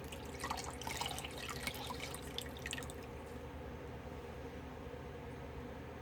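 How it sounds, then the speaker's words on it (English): Rag rinsed out under a running tap, a steady wash of water with brief splashy bursts early on that settle into a constant trickle. "Rinsing my rag out here."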